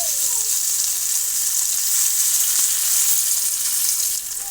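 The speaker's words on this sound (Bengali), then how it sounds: "ভালো করে নেড়ে চেড়ে মাছগুলো আমি ভেজে নেবো।" Fish frying in a pan until crisp, a constant bright hissing sizzle that stays even and loud up close, dropping slightly near the end, with no speech.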